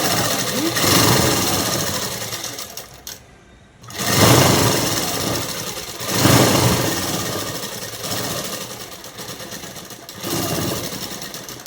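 Sewing machine stitching the side seam of a peplum top dress, a steady loud mechanical whir running almost continuously with one short pause before resuming.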